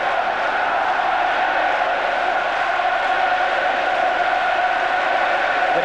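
A stadium crowd of 30,000 at a France vs Brazil football match roars in a dense, continuous wash of noise, loud and steady with no breaks, and no clear voice stands out.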